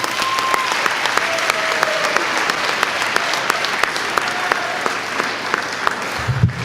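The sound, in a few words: audience applause for distinguished citizens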